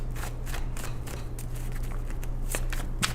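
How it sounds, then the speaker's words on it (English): A deck of tarot cards is shuffled by hand, giving soft repeated riffling and slapping bursts at an uneven rhythm, close and fairly quiet over a steady low background hum. "while I'm shuffling Virgo's cards"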